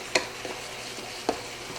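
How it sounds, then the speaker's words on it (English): Onions and peppers sizzle steadily in a hot pan while a utensil stirs them, with a few soft scraping knocks against the pan over a constant frying hiss. "what I'm going to do is stir this all up. I'm just going to cook this down for a few minutes until the onions are nice and soft"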